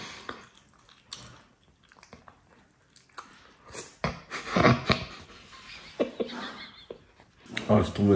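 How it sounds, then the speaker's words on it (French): Close, wet chewing and biting from a mouth numbed after wisdom tooth extraction, irregular squishy crunches that grow louder and denser toward the end, with no talk over them. "je suis en train de manger comme un..."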